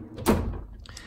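A drawer on a DIY tool box slides open or shut with one quick rolling thunk, close and fairly loud, followed by a faint rattle.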